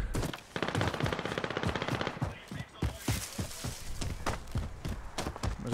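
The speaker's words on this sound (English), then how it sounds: "There's a shitload of guys shooting." Rapid automatic gunfire in a multiplayer video game battle, dense bursts of machine-gun and rifle shots from several shooters crackling continuously and loudly with no pauses throughout.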